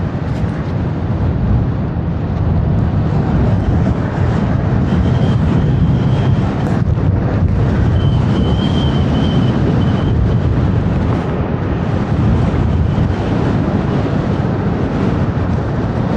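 Strong wind roars and buffets across the microphone without a break during a windy-season highway ride on a TRBK-M2, a dense, rushing noise that stays loud throughout.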